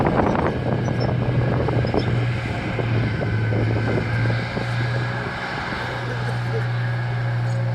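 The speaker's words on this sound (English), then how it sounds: "Very reliable tank engine, the Meteor." A tank with a Meteor engine runs at a vehicle demonstration at the Bovington Tank Museum, giving a steady low engine drone with wind noise while someone talks over it.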